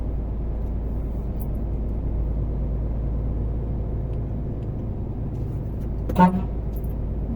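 A truck rolls through Bilecik town centre on the old road, its engine a low steady rumble heard from the cab, with a brief horn-like toot near the end.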